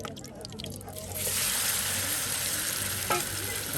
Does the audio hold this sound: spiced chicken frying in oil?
yes